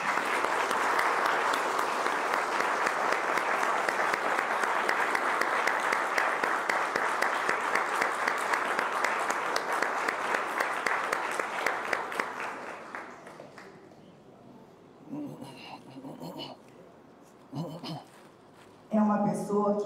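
An audience applauds in a hall at a spiritist event honoring a 98-year-old guest, sustained dense clapping for about twelve seconds that then fades to scattered claps and brief bursts.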